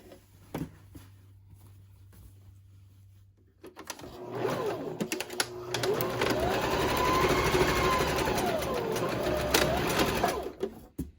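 A sewing machine stitches and back-stitches the darts of a hobo bag, starting after a few quiet seconds with soft handling clicks, then a loud, steady mechanical whir running close up until near the end.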